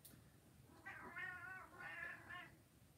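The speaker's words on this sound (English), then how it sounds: "Cat, just come in here and annoy me, why don't you?" A cat meows indoors in three drawn-out, wavering calls, each close and clear over a low room hum, with no talking.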